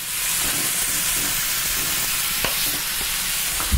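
Ground beef for chili browning in a lightly oiled pan, giving a constant close sizzle and hiss with occasional utensil scrapes and taps.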